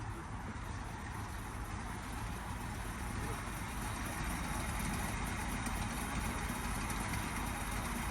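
A 1974 Ford F350 dually ramp truck idles with a steady, even low engine rumble that holds constant and fairly close throughout, with no other prominent sounds.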